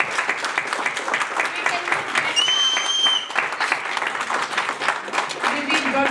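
A crowd at a realtors expo breakfast at a resort claps heartily in continuous applause, with some voices and cheering mixed in throughout.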